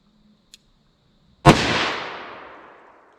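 One sharp .357 Magnum revolver shot cracks loudly outdoors at dusk, its boom rolling off in a long fading tail after a tiny click.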